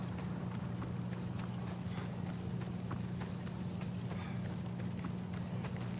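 A horse gallops in Assassin's Creed Odyssey, steady rapid hoofbeats drumming close by under a constant low droning background, with no voices.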